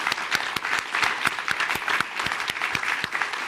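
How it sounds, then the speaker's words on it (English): An audience at a live event claps steadily in an energetic round of applause, with sharp individual claps standing out over the dense crowd noise for the whole stretch. "let's have a huge round of applause for 4 amazing people."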